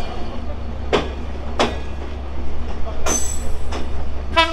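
The Ruposhi Bangla Express pulls out of Jessore junction with a steady low rumble and sharp, regular clacks and squeals from the wheels, heard from on board.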